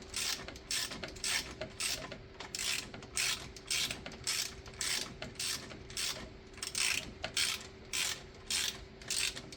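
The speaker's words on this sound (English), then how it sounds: "then I can bring in my my ratchet, and I can run out the top bolt" A ratchet backs out the top bolt of a thermostat housing on a Mercedes-Benz GLK350 M272 engine, a rhythmic series of close, crisp clicking bursts with short pauses between strokes, no speech.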